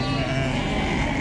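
Sheep and lambs bleat at a crowded outdoor livestock market in Beylagan, a dense continuous wash of overlapping animal cries and crowd noise, loud and close.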